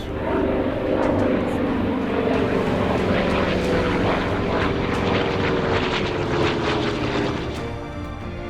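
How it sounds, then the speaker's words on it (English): Loud, continuous aircraft engine roar sweeping close overhead, a dense rumbling drone that holds steady then eases slightly at the end. "With a deafening roar, planes blasted overhead"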